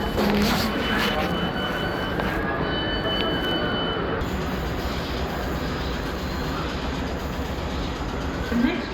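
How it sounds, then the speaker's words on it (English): A train rolls through platform 12 at Clapham Junction without stopping, a loud continuous rumble of wheels on rails with a faint squeal, nearby and sustained throughout. "The train now approaching platform 12 doesn't stop here."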